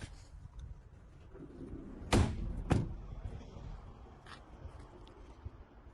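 The sliding side door of a 2019 Opel Vivaro cargo van rolls and clunks shut in two quick sharp bursts, close by against a quiet background.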